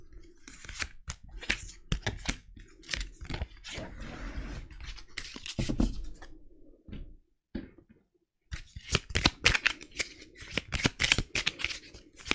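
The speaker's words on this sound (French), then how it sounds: "Je vais prendre 6 cartes." Tarot cards shuffled and drawn by hand, a flurry of crisp papery riffles and slaps, a brief pause, then more quick card snaps close up.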